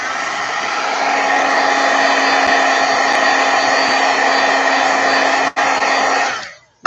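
A heat tool blows steadily, close and loud, drying stamped ink on a handmade Christmas card. It runs with a constant whirring roar for about six seconds, then cuts off.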